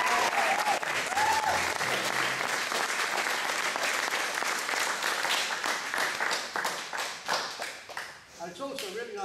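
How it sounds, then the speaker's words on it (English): A crowd applauds steadily, dense clapping filling the room throughout, with a few voices rising over it before it starts to fade. "They get a round of applause as well."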